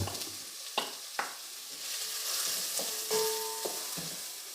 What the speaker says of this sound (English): Saute this till it becomes slightly brown in color